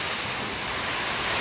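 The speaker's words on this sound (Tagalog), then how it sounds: "yung hangin ay umiikot" Strong swirling typhoon wind roars steadily around a house with a tin roof, a dense, unbroken rush of noise that buffets the microphone throughout.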